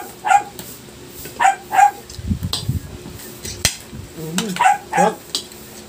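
A dog barks in short bursts of two or three sharp yips, set a little back in a room with dishes clinking and some quiet talk mixed in.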